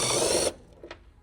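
Quick ratchet clicks loosening a 10 mm bolt on the airbox of a 2007–2021 Toyota Tundra, a dense close-up burst of rapid clicking that stops abruptly, followed by a couple of faint taps.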